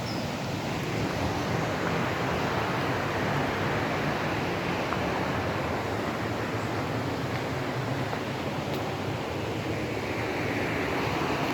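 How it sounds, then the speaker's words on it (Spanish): Water pours steadily over a small dam on the Turia river, a dense, loud, continuous rushing roar that holds unchanged from start to finish with no voices. "a escuchar ustedes el sonido del agua de una pequeña presa"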